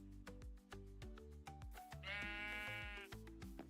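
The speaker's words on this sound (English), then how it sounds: "Go see a sheep again." Sheep in the video game Minecraft bleat in a long wavering cry that rises over a background of rhythmic plucked game music notes.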